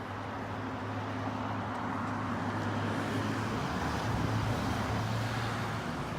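Traffic on a busy street, a steady wash of passing cars and a low roadway hum, fairly distant and even throughout, with no clear single vehicle standing out.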